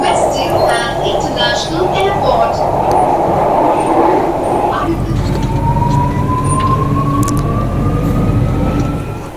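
An airport metro train ride, with a steady rumble of the carriage and a rising electric motor whine as the train pulls away, while voices murmur in the background.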